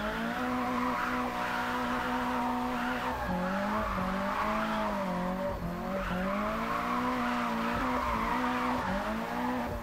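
In the video game Japanese Drift Master, a Toyota Trueno's engine drones continuously while its tires squeal in long, wavering skids as the car drifts, loud and with no talking.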